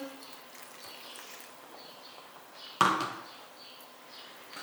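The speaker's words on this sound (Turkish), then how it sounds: "Yemeğimizin üzerine bir su bardağı kadar su ekliyorum" A glass of water poured over an eggplant dish cooking in a pan hits with one sudden splash and hiss, then fades into a soft, steady simmer.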